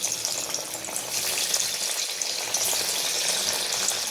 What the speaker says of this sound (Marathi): तेल तापायला ठेवलं होतं, त्याच्यात वड्या टाकून घेऊ आपण।